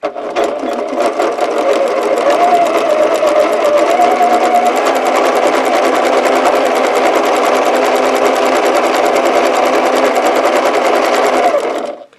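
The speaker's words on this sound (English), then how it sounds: "I'll make sure and double check that the ends are lined up and then stitch" A sewing machine stitches a long, steady seam across a quilt unit for a Twinkle Star quilt, running loud and close without a break for about twelve seconds before stopping.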